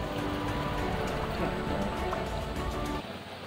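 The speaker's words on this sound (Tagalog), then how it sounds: "na kayo at malakas pang ulan. May bagyo pati." Steady, dense heavy rain from a typhoon hisses across the whole clip, drumming on a surface before dropping off abruptly near the end.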